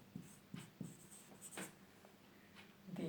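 A pen or pencil scratches across paper in a school setting, making a few soft strokes and scribbles at close range in a quiet room.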